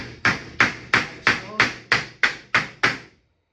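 A hammer drives nails to fix a pre-drilled half slate onto a roof: nine evenly spaced, sharp, ringing strikes, close and loud, on their own.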